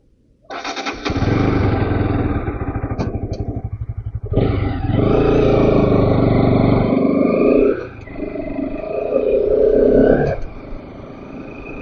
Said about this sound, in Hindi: अभी बाइक स्टार्ट करके चलेंगे। उस वक्त जो नॉइस आएगा तो उसमें देखेंगे कैसा परफॉर्म करता है ये।